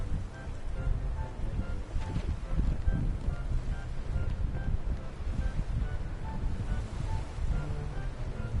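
Ship setting sail in Dragon Quest Builders 2, a continuous rushing wash of wind and ocean waves against the hull, with faint tonal game chimes over the steady roar.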